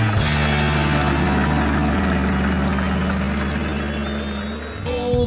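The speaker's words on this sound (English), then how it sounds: "can you hear their engines are roaring so loud?" Monster truck engines roar in a deep, steady rumble with strong low hum, loud and continuous before dropping off abruptly near the end.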